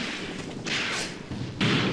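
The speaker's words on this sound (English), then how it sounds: "Oh boy, enemy artillery's targeting us" Enemy artillery shells land in a Graviteam Tactics: Mius Front battle during a heavy rainstorm, two heavy booming thuds with swooshing rushes between them, loud and close.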